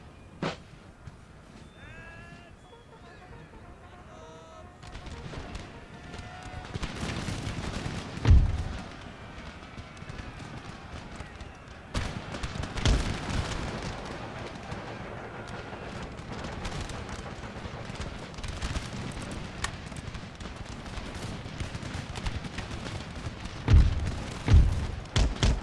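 Volleys of musket fire from troops in Empire Total War, a Russian army battle, sound as repeated sharp cracks and thumps over a dense battlefield din, with louder bursts near the middle and end.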